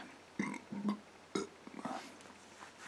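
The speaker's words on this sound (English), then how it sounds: "Oh, some gassy this, make it burp like crazy." A man burps a few times after drinking a gassy pecan brown ale, short guttural bursts close to the mic separated by brief pauses.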